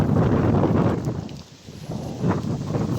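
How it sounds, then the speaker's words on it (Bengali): Wind blowing outdoors in light rain near a fish market, a steady roar of gusts buffeting the microphone that eases briefly midway and then returns. "আর খালি বাতাস হইতেছে"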